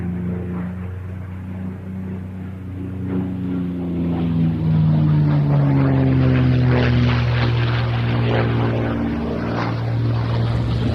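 A P-51 Mustang propeller fighter flies past at an airshow at Duxford, its engine drone rising to a loud, close peak as the pitch slides downward, then holding steady.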